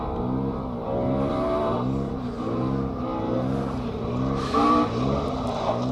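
A rally car charges flat out along a special stage of a Welsh championship event, its engine held high and hard with rhythmic gear changes and revving, loud and close, with a sharp burst near the end and no voices.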